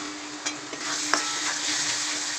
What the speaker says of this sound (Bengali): চিকেন মশলা, জিরে গুঁড়ো আর ধনে গুঁড়ো দিয়ে ওটাকে আবার কষিয়ে নিতে হবে।